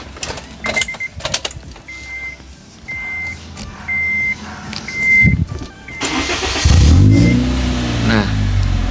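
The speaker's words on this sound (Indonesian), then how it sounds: "Ini dengan knalpot standar. Dia cuman agak sedikit ngebas sedikit doang" A Honda Brio's engine with stock exhaust cranks and revs up close, deep and loud, following intermittent beeping and clicks; voices are heard briefly.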